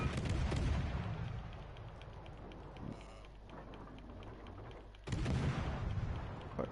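Warship naval guns in a video game firing shells: heavy booming blasts at the start and again near the end, loud and close, with a quieter rumbling lull between them.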